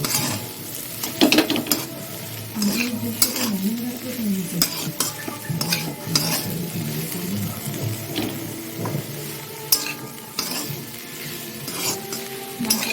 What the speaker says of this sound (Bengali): নুন হলুদটা ভালো করে করে নিলাম চাপা দিয়ে দিয়ে ভেজে নিই এ দেখো পেঁয়াজ দিয়ে দিলাম মধ্যে